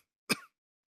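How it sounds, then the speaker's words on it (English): A single short, sharp cough from a man outdoors in dusty African conditions, close and clear against silence. "I'm constantly coughing, right?"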